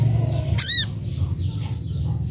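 A sogon ngombyok rooster lets out one short, high, warbling call close by, lasting under a second over a low background murmur.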